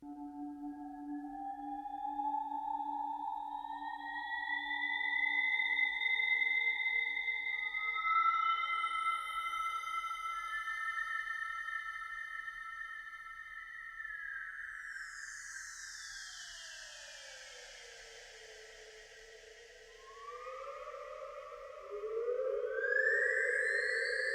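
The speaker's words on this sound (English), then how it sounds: "this is basically just a random texture generator" Sustained synthesized tones drift and layer into an airy, evolving texture, with gliding pitches and fluty sounds rising and falling slowly.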